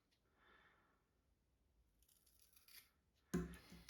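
A Philodendron stem is cut for propagation: one quiet, close snip of scissors after soft rustling and breathing.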